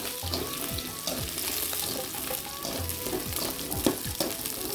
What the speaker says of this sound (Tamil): இதோட வெங்காயம் போட்டுக்கலாம். வெங்காயம் வதங்கிட்டு நல்லா.